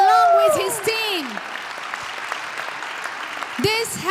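An audience at an award ceremony bursts into sustained applause, a dense wash of clapping that holds steady for several seconds while a voice speaks over it at the start and again near the end.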